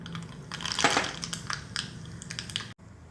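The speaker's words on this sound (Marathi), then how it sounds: "तापलंय का बघूया तेल। मोहरी घालते" Mustard seeds sputtering and crackling in hot oil, a dense, close stream of sharp pops and fizz that cuts off abruptly near the end.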